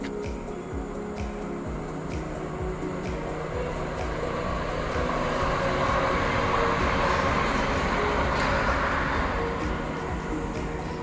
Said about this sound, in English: we saw several trains that were constantly coming by on the railroad nearby.